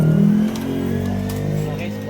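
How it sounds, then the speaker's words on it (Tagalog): Yamaha Nmax 155 V2 scooter, which had not run for three months over a suspected faulty ECU, its engine running and revving in a short burst, close and loud, with a voice talking over it. "papaandarin ko na nga itong motor para alamin kung nagkaroon na nga ito ng idle"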